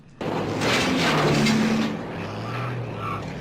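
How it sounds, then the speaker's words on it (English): A loud engine roar swells, holds steady, then eases into a lower rumble, with faint tonal whines near the end. "the smoke and the engine noise gives it away"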